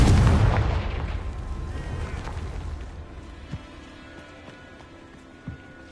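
A Confringo fire spell from Hogwarts Legacy explodes in a loud, deep boom at the start and then rumbles away, followed by a couple of faint thuds.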